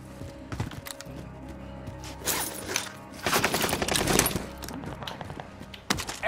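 Scattered bursts of gunfire and explosions from the Call of Duty: Modern Warfare video game, clustering into dense volleys in the middle, with radio-style game chatter in the background.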